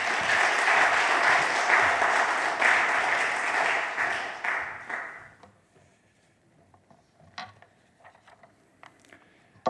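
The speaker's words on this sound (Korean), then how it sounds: "나오실 때 박수로 환영하시겠습니다." A church congregation at a military missionary commissioning service applauds to welcome a visiting pastor, dense clapping that holds for several seconds, then thins out and fades to a few scattered claps.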